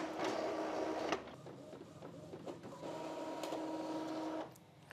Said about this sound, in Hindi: अब ये प्रिंटर इसे प्रिंट करेगा।